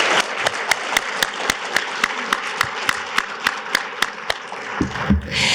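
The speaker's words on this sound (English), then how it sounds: "Let's give them another round of applause." Audience at a panel discussion on AI and digital innovation gives a dense, sustained round of applause, with regular louder claps standing out over the steady wash before it tapers off abruptly.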